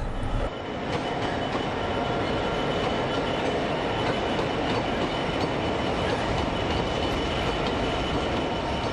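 A train running on the downhill stretch of the railway line into Bristol: a loud, continuous rumble of wheels on track with rhythmic clicking and some squeal, heard alone for the whole stretch.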